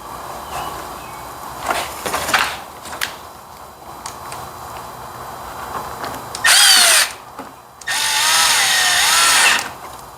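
Power drill driving fasteners to refit a part on a lawn mower, two loud whirring bursts with pitch sweeps as the motor spins up and slows, after quieter handling and clunks.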